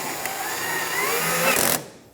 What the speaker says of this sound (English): Now you're going to put your screw in here and tighten it down.